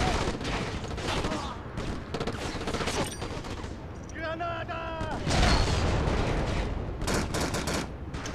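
Rapid bursts of gunfire in a PS2 game crackle continuously, with dense repeated shots and occasional louder blasts, loud and close throughout.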